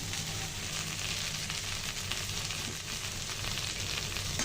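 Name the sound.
okra (bhindi) frying in a pan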